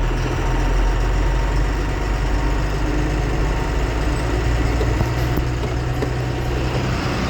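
A diesel truck engine idles steadily close by, a constant low rumble that holds unchanged throughout with no talk.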